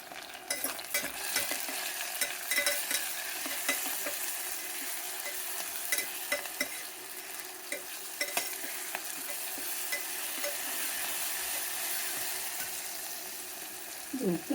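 Ginger garlic paste and tomatoes frying with spices in a pan while being stirred, a continuous close sizzle broken by scraping strokes of the spoon, with no speech.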